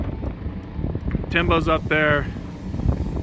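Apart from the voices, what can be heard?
wind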